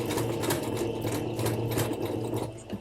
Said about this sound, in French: Je continue à coudre pareil.